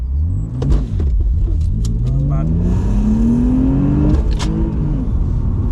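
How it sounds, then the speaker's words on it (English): A 2002 BMW 330Ci E46 with a five-speed manual and traction control off accelerates hard from a standstill, engine note rising steadily through a gear, loud and close from inside the cabin, with a brief shift break before climbing again. "we're now doing the 0 to 60 on the 330ci"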